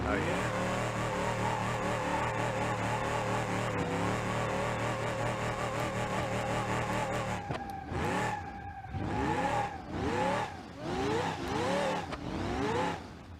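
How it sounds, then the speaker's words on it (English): A rally car in the BeamNG.drive video game holds a constant high engine rev while its tires spin. It then breaks into rhythmic revving surges, loud and close, with a voice talking over it. "Oh my god, it just keeps spinning the tires."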